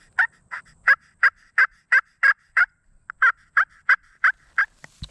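A turkey yelp made on a pot call, or slate call, sounding as a clear, close run of about thirteen evenly spaced raspy notes with a short pause partway through.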